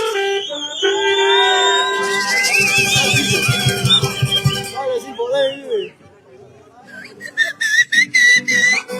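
A loud, sustained whistle blown hard at the Pukllay 2025 carnival festival, trilling and warbling for several seconds, followed by shorter repeated whistle blasts with excited voices chattering around it.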